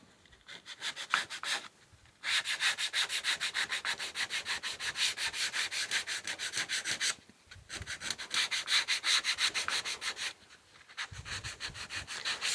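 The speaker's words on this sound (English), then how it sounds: "I'm going to guess the best way to do this is with some sandpaper." Sandpaper rubbed over a wood surface in rapid, rhythmic back-and-forth strokes, close and alone, in several long runs separated by brief pauses.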